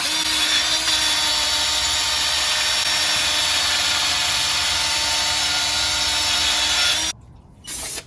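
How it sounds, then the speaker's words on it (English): A drill spinning a wire brush against a rusty Jeep JL/JT steering knuckle near the ball joint, a steady loud whirring scrape that runs continuously for about seven seconds before cutting out briefly and resuming. "Wire brush, a drill, and just clean off the surface of rust."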